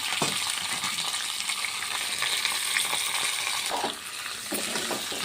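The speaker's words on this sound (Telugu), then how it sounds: "నూనె వేడైంది ఇప్పుడు ఈ కడాయిలు వేసుకున్నాము బెండకాయలని" Cut okra spits and sizzles in heated oil in a kadai, a dense continuous hiss up close with small crackles throughout and a brief dip near the end.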